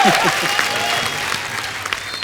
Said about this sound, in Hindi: जोक सपाट भूमि का जोरदार तालियों से स्वागत करिए।